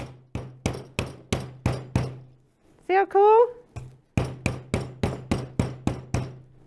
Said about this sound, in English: Put on my safety glasses, because we're using the hammer